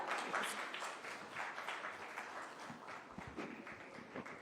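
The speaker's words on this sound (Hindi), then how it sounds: "पवन अरोड़ा जी के लिए जोरदार तालियां" Audience applause for Pawan Arora, CEO and editor, at a formal event on Rajasthan tourism: steady, moderately loud clapping from a crowd that holds through the whole stretch without a voice over it.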